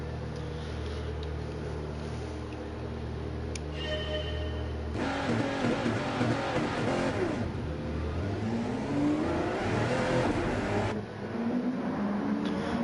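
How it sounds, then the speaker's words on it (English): Race cars in a sim racing game pulling out of the pits at Le Mans, engines revving and accelerating loudly with whining gear changes, several cars passing close in succession, no talk. "First out of the pits is one of the 3 N3XUS Audis, Gumball, followed by Scott"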